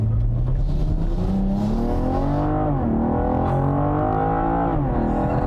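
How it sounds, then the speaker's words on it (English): A 2021 BMW M440i xDrive with its straight-six engine pulls hard in Sport Plus, revs climbing and dropping through gear changes in a loud, continuous near-field drone with no talking. "the straight 6 engine in this is near perfection"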